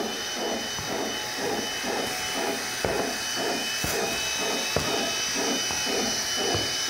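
Argon shielding gas hisses steadily from a welding robot's torch, a constant broadband rush overlaid by soft rhythmic mechanical pulses, close and even in level, with no voices.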